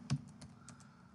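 Close, quiet keystrokes tapped on a computer keyboard, a handful of light clicks in an uneven rhythm over a steady faint background hum.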